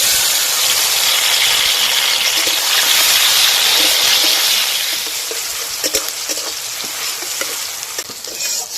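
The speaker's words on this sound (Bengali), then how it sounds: "ফোড়নে দিয়ে দেবো কালো জিরে, দিয়ে দেবো টমেটো কুচি" Black cumin and chopped tomatoes sizzle steadily in hot tempering oil for a Bengali mustard fish curry, a dense continuous fry that eases slightly partway through, with faint stirring clicks toward the end.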